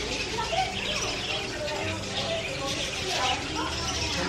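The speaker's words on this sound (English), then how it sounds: "Look at all those birds." A flock of birds chirping and tweeting, a steady busy chatter of calls over a constant wash of background noise, fairly close.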